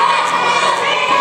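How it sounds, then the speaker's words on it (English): Wrestling fans roar and shout together inside the Rogersville Armory at a pro wrestling show, a dense, steady wall of crowd cheering with high excited voices, loud and sustained throughout. "What a reaction here from these fans inside the Rogersville Armory."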